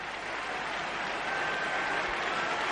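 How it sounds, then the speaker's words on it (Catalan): A dense crowd applauds continuously for the Catalan president, a loud, unbroken wash of clapping heard from within the gathering. "Entre els aplaudiments i el cridar el seu nom i fer palesa les seves reivindicacions fan difícil que es faci el silenci necessari"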